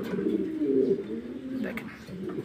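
A pair of pigeons coo up close, with a few throaty rolling calls in quick succession, fairly loud against a quiet room.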